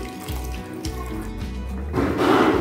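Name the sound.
pouring water into cornflour mixture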